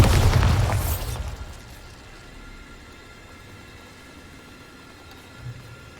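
A Bombarda blasting spell goes off in Hogwarts Legacy: one loud, close explosion with a heavy boom that rolls away over about a second into a low rumbling tail, then a small thud near the end.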